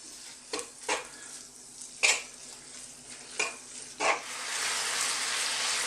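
Beef for stroganoff cooking in a pan over low heat just above a simmer, giving a steady soft sizzle, broken by a few sharp scrapes and knocks of a utensil stirring the pan, close up with no speech.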